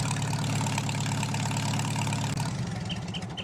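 A Farmall M tractor in Farming Simulator 19 sits idling, a steady, close, low chugging engine rumble with an even throb and no talking.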